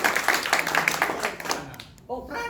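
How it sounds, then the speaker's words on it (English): An audience gives a short round of applause during an opening speech, a brief burst of clapping that fades out before a voice starts speaking. "Big round of applause for Mao."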